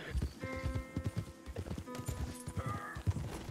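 Horse hooves clip-clop in a quick, uneven rhythm in the Red Dead Redemption 2 Online video game, fairly quiet and close, with a faint whinny-like tone mixed in and no talking over it.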